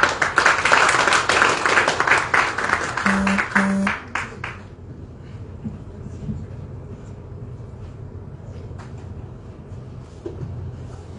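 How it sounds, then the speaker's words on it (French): Audience applause welcoming the director of the Grand Théâtre in Senegal: dense clapping fills the first four seconds, then breaks off, leaving quiet room noise and a few scattered claps. "Tous vos applaudissements"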